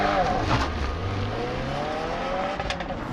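A car with a 2.4-liter turbo boxer engine launches hard, its engine note climbing steadily through the revs, loud and close, with some faint background noise.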